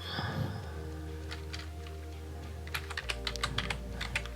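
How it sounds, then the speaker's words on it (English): Typing on a computer keyboard: soft, quiet clicks, sparse at first, then a quicker run of keystrokes near the end. "Yay, tune in to hear me typing."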